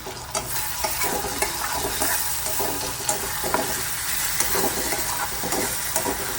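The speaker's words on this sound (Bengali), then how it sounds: "আদা রসুনের পেস্টটা দিয়ে ভালো করে আগে ভেজে নেবেন" Ginger garlic paste fries in a hot pan with a steady, dense sizzle, while a spoon scrapes and stirs in irregular clicks throughout.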